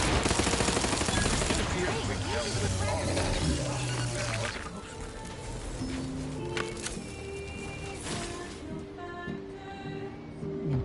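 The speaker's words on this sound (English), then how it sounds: "Burst heavy machine gun." Heavy machine gun burst fire in the video game Outer Worlds 2, a dense, loud, continuous stream of rapid shots for several seconds that then gives way to quieter clattering, with voices partly underneath.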